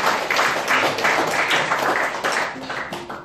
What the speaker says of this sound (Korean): 선물 준비하신 박수 한 번 더 보내십시오